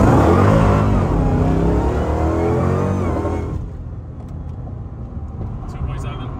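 A Chrysler 300 fitted with a Demon 170 engine launches hard with its tires spinning, roaring loudly and rising in pitch before cutting to a lower idle and road noise. Voices are present.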